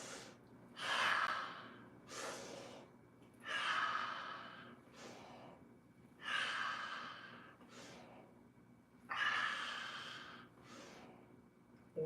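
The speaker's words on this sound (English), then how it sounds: "We're gonna breathe with it." Deep, slow breaths during a full-body stretch routine, four long inhale-exhale cycles spaced a few seconds apart, close and clear with no talking.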